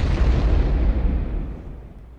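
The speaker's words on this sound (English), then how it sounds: "An explosion rocked the street, and Edgar could see Johnny silhouetted" A loud explosion booms in a street, a dense low roar that starts at full strength and slowly rolls off over about two seconds, with no voices.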